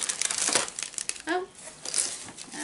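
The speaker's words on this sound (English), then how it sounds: "we're going to give everything in here a little shuffle up" Packaged Japanese snacks in a Tokyo Treat box are shuffled by hand, giving busy crinkling and rustling of plastic wrappers in uneven bursts, with a brief voice-like sound partway through.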